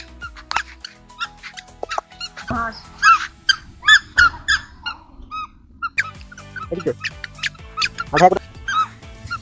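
Ducks at a park honk and quack repeatedly in irregular bursts, fairly close, with faint background noise between calls.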